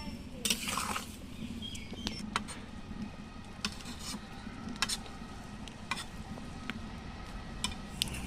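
Mushrooms are stirred in a pot of boiling water, with scattered clinks and taps of a utensil against the metal pot over a low bubbling bed, close and moderately quiet.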